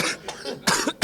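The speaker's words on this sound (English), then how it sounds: "I'm the only one in here right now that's coughing." A basketball player coughs in a postgame press conference, giving several harsh, rough bursts in quick succession, close and loud with no talk over them.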